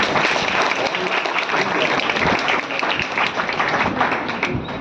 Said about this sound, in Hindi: ताली बजाओ इन बच्चों के लिए